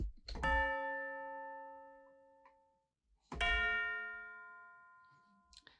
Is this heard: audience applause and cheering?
no